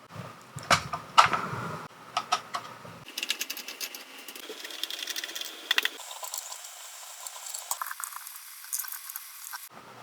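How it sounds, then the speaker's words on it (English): Batteries and screws being removed from a Jumper T15 radio transmitter during a teardown: close, dry plastic clicks, rattles and small mechanical scrapes in irregular bursts, with no voices. "I'm going to pick the batteries out anyway"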